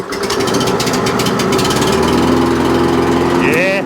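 A cheap supermarket petrol lawnmower engine, found at a dump, running loud and close with a steady rough buzz that rises in pitch near the end as the throttle opens.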